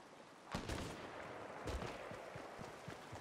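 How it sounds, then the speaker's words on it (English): Sniper rifle shots ring out in Fortnite Battle Royale, two sharp reports about a second apart, each with a rolling echo, followed by fainter scattered pops. "I hear someone sniping."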